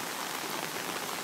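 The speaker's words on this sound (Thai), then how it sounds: "ฝนตกหนักสุดระดับ5" Heavy rain pours steadily onto surfaces near an apartment during a downpour, a dense, constant hiss with no pauses and no voices.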